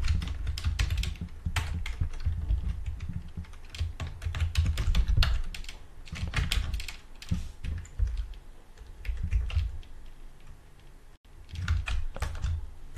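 Typing on a computer keyboard, with quick runs of close, crisp key clicks in bursts and short pauses, heard clearly on its own without any voices.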